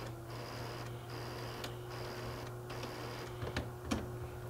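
A Sawgrass sublimation printer hums steadily as its carriage slides over, with faint repeating whirs and a few soft clicks and ticks toward the end, close and quiet.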